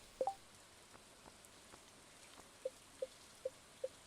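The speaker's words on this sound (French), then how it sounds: "Là, il pleut" Rain falls in the farming video game Stardew Valley, a faint soft patter under a quiet background with a few isolated droplet-like plinks spaced at intervals.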